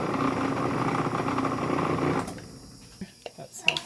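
Breville food processor chopping garlic finely, a steady whirring motor drone that cuts off partway, followed by a few light clicks and knocks.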